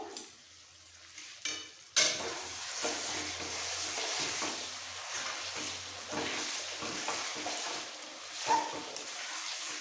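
Potato curry (alur dam) with sour yogurt being stirred in a sizzling pan, a steady frying hiss with repeated soft scrapes of the spoon.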